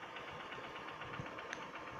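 A heavily used motorcycle engine running steadily, a close, even mechanical drone with a fast knocking pulse and no voices.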